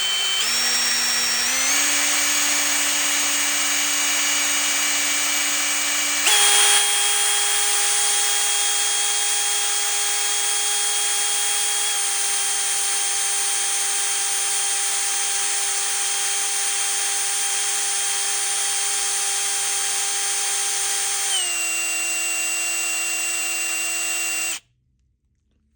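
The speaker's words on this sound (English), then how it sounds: "Then you take a drill and literally stick it inside there" Electric drill spinning inside a brass seat of a Harley Davidson CV 40 carburetor to polish it, a steady close whine running without pause and shifting pitch a few times before cutting off abruptly.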